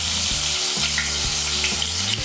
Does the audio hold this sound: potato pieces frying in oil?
yes